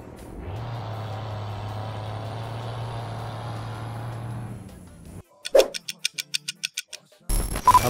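A heavy truck in Euro Truck Simulator 2 rumbles steadily for several seconds and then stops with a sharp air-brake hiss, followed by a rhythmic series of beeps and another burst of noise.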